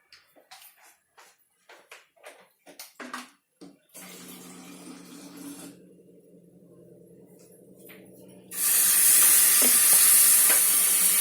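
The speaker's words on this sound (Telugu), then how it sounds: "ఆ తర్వాత కొంతవరకు నీళ్ళు పోసుకుందామండి." Water is poured into a pan holding jaggery for syrup, then stirred, giving sharp scraping taps, a steady pouring wash and a loud hissing rush near the end, all close and with no talking.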